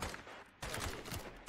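Heavy gunfire in the Tier One video game roars as a loud, continuous fusillade, briefly dropping out before resuming with booming shots.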